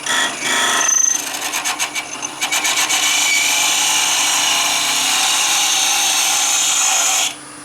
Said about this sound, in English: So I'm now rubbing my bar on the side of the bowl.